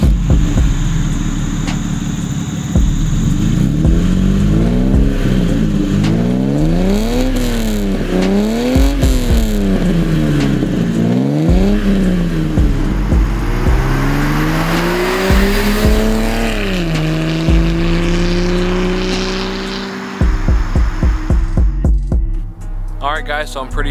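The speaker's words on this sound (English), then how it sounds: "I'll also throw some exhaust clips in so you guys know what it sounds like." A BMW E30 engine revving repeatedly, pitch climbing and dropping in sharp surges, then a long rising pull, loud and close, with crackling pops from the exhaust.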